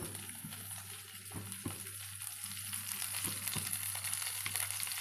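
Okra (bendi) pieces shallow frying in oil, a steady close sizzle with occasional scraping clicks and a constant low hum underneath, no voices.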